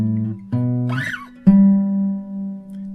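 Guitar plays the lower line of a song: a few low, sustained plucked notes struck about half a second apart, with a brief sliding squeak in the middle, loud and close with no talking.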